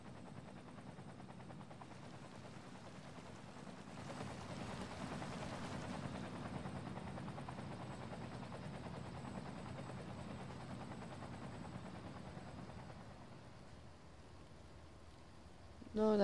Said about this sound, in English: Nice helicopters here.